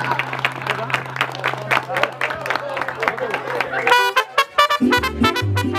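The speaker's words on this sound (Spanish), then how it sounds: "Qué bonito ese aplauso que se escuche, fuerte, claro que sí." Audience applause at a quinceañera party with a live mariachi band, rapid clapping from guests over a steady held tone, fairly loud and close, followed by brass and music picking up near the end.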